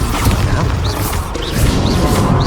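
Crashing magical blasts from the Confringo spell in Hogwarts Legacy, loud and close, a series of impacts with whooshing sweeps in quick succession.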